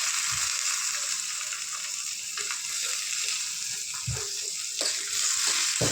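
Curry leaves and onion sizzling in hot oil with dried chilli, mustard seeds, carom, fenugreek and cumin, a steady close crackling hiss with a few brief clatters of stirring.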